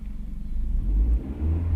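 A car pulls away in first gear during a driving lesson as the clutch is eased out, its low engine rumble swelling and holding steady, close and fairly loud with no talk.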